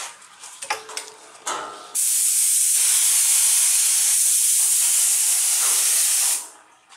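Activator is sprayed onto hydrographic print film in one long, loud, continuous hiss lasting several seconds, preceded by a few short bursts and handling noises.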